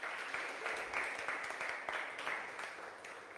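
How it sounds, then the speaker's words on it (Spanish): A church congregation claps together in continuous, dense applause, a steady roar of many hands in a large room that holds at an even level throughout. "Denle una ofrenda de palmas a Jesús."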